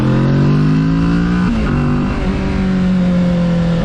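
A Kawasaki Z650 motorcycle engine runs loud and close, revving with a droning note that climbs, dips sharply, then settles and holds steady.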